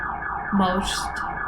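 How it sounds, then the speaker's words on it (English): A siren wails faintly in the distance, rising and falling briefly over a steady background hum. "Sorry for the sirens in the background."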